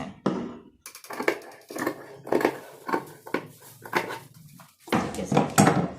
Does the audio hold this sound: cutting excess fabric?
yes